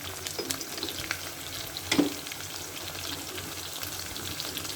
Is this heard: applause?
no